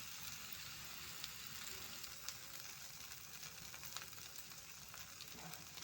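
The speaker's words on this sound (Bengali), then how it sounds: "ঢ্যাঁড়সটা দিয়ে আমি এবার উল্টিয়ে পাল্টিয়ে একটু নেড়ে চেড়ে নেব।" Okra frying and being stirred in a pan gives a steady, soft sizzle with faint scattered crackles, heard close but quietly and with no talking.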